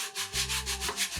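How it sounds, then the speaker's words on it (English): Light hand sanding of wooden table legs, quick rhythmic back-and-forth rubbing strokes, close and soft, alone with a low background hum. "I'm just going to give it a very light sand"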